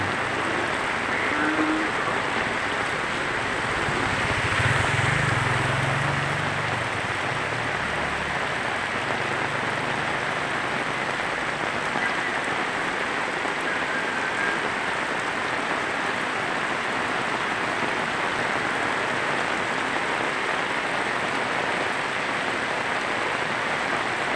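Heavy rain pours steadily in the Bicol region, a dense, even hiss of drops on surfaces that holds without pause for the whole stretch, with a faint low rumble early on.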